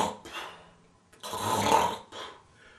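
A voice imitates snoring with a few rasping, drawn-out breaths separated by short pauses, close and fairly loud, the longest in the middle.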